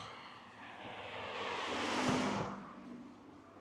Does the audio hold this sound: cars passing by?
yes